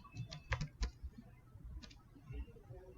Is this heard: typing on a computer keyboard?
yes